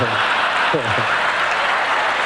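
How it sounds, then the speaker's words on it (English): Audience applause from thousands of people at a live Apple demonstration: a steady wash of clapping throughout, with a voice briefly speaking over it. "you heard the applause"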